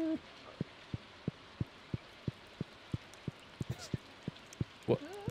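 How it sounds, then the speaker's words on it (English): Soft steady rain ambience in the Stardew Valley video game, with regular thumping beats at a slow, even rhythm running over it, and a brief soft sound near the end. "The valley looks more interesting in the rain,"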